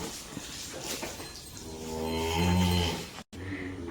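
A cow moos in a cattle shed, one long low drawn-out call swelling and then fading, heard over the faint hum of the barn with no talk.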